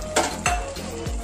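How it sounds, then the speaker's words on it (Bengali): A spatula scrapes and knocks against a metal pan three times at a steady pace while pointed gourd and fried prawn curry is stirred, with a soft sizzle underneath. "তরকারিটা ভালোভাবে নাড়িয়ে নিয়ে আবার তরকারিটা একটু ঢাকা দিয়ে দেব।"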